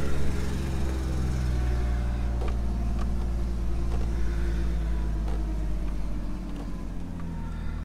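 4x4 vehicle engine held under heavy throttle while climbing a steep canyon track, a loud continuous low rumble and drone heard from close inside, steady throughout with no talking.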